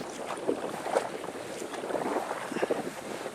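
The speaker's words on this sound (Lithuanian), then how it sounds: "Kadangi šiandien vėjas yra, turbūt girdit" Wind blows across open water near a dam during a cold-weather pike fishing trip by boat, making a steady, close rumbling buffet with gusty swells and faint water lapping underneath.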